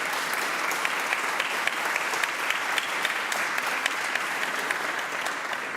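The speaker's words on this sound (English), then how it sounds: "I think a special round of applause to the Daisies is in order." Audience applause at a labour and unions forum, a dense, steady wash of many hands clapping continuously for several seconds at moderate volume, with no one speaking over it.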